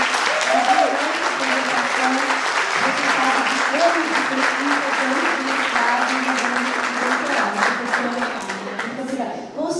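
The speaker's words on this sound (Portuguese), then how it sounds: "uma salva de palmas para a professora Kátia" Audience applause for Professor Kátia after her lecture at the 73rd Semana Monteiro Lobato, a steady, dense clapping that fills the whole stretch at full strength with voices murmuring underneath and tapers slightly at the end.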